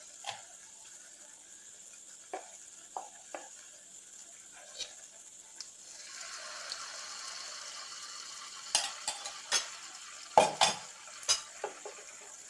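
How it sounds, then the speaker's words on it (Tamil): Rava appam batter frying in hot oil, a soft steady sizzle joined by sharp clinks and scrapes of a utensil against the pan, loudest toward the end. "இது பொரிஞ்சிட்டு இருக்க இன்னொன்று ஊற்றிடலாம்"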